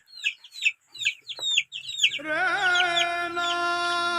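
Chickens cluck in a series of short, close calls for about two seconds, then a sustained, loud crowing-like call rises and holds steadily to the end.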